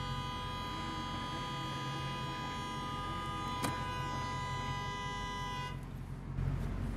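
A car horn blares as one long, steady held tone that cuts off near the end, close and loud, at a street car meet with cars parked nearby.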